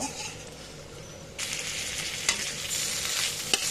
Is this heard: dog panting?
no